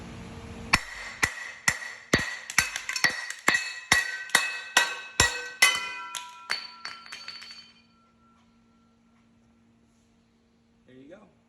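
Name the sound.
hammering cover can through chair base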